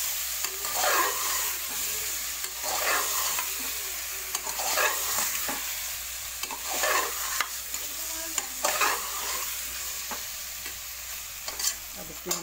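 Fried eggs are stirred and mixed in a sizzling pan for a masala egg dish, with repeated scraping strokes of a spoon against the pan over a steady frying hiss, close and moderately loud. No talk.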